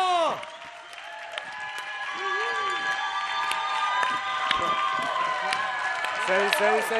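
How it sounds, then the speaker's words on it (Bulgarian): A crowd claps and cheers at a music academy performance, with children's voices shouting and calling over the applause. "Аплодисменти за Тичо и Дено Видео"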